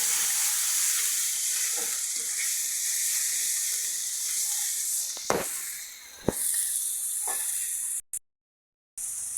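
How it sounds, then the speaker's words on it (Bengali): Turmeric, cumin paste, ginger paste and salt fry in a pan for chicken, giving a steady close sizzle with a few sharp stirring scrapes before it briefly cuts out. "হলুদ, জিরে বাটা, আদা বাটা আর পরিমাণ মতো লবণ দিয়ে আমরা ভালো করে কষিয়ে নেব।"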